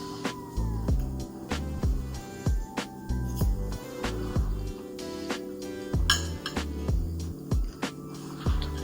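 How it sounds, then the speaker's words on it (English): A fork clinks and scrapes against a plate during a meal, producing a string of sharp, close metallic taps at an uneven pace with no voices. "First, I'm gonna get a bite with the fork"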